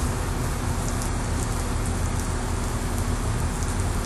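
Water spraying from a hose onto a car, a steady dense hiss and patter like heavy rain drumming on the surface, continuous and fairly close, with no talk.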